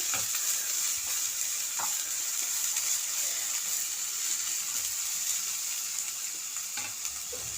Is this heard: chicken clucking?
no